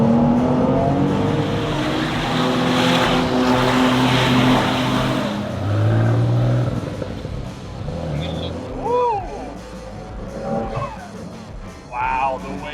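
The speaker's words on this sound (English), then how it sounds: "Wow, the wastegate noise is incredible." A supercar laps a racetrack, its engine roaring loudly and continuously with rising and falling pitch and wastegate chatter, while a person talks over the engine noise throughout.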